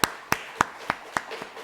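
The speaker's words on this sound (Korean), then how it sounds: "오늘 왔는데 잘 하라고 우리 박수하겠습니다" A few distinct claps land at a regular, unhurried pace in a church during a Sunday service, each one crisp and separate against a quiet room, about six in quick succession.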